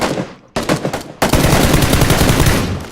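Gunfire in the video game PUBG Battlegrounds, loud automatic bursts: a fading rattle, a short burst, then a sustained heavy volley filling the rest.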